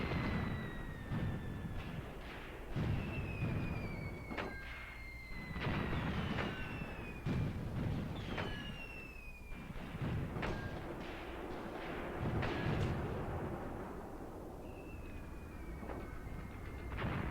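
Mortar fire in the Graviteam Tactics Kharkov 1942 wargame, a series of heavy thumps and booming blasts recurring every couple of seconds amid descending whistles of incoming rounds.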